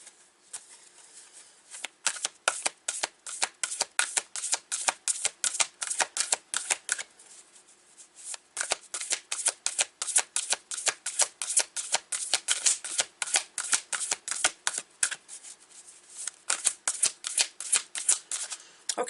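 A Sufi Tarot card deck is shuffled again and again, rapid crisp riffling bursts in a steady rhythm, close and fairly loud, with no speech.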